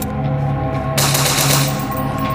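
Automatic gunfire from the Momo Have a Son horror video game, a dense continuous burst of rapid shots that swells louder midway and keeps rattling to the end, with no talking.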